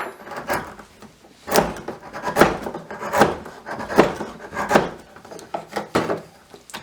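Rhythmic rasping strokes of sandpaper rubbing by hand over wood, sanding with the grain, about eight even back-and-forth passes, close and fairly loud, with no voices.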